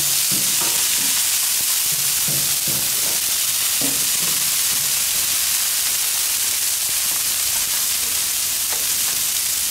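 Chicken and broccoli sizzle steadily on a flat top grill, a constant broadband hiss with scattered scraping and stirring knocks, close and fairly loud, no talking.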